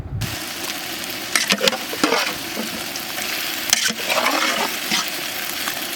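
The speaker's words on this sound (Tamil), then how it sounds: "தயிரில் ஊற வச்சுருந்த சிக்கன் எடுத்து போட்டுக்கலாம்." Yogurt-marinated country chicken added to a pan with tomatoes for a village-style biryani: a loud, close, continuous sizzle and crackle with a few stirring scrapes, and no voices.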